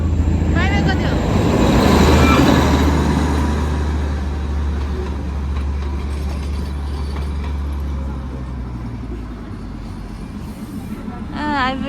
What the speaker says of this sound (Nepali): आइपुग्यो ट्रेन स्टेसनमा आइपुग्यो ट्रेन